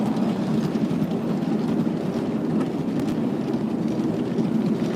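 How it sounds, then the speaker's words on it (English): A steam train at White Creek Railroad rumbles steadily along the rails, a continuous loud low roar with faint rhythmic clatter and no voices. "We are on the steam train here at White Creek Railroad."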